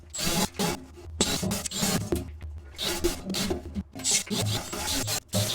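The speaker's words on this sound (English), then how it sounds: "I don't think it likes that big wire brush on this die grinder." A big wire brush on a die grinder scours a metal fuel system part on an old Caterpillar dozer. It makes loud, harsh, continuous rasping and scrubbing in uneven bursts with brief gaps, close up and with no talk.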